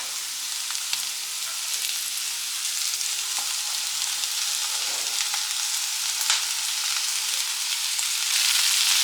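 Capsicum and onion frying in a pan with potatoes for a capsicum potato curry, giving a steady, close sizzle with faint stirring scrapes and no talk.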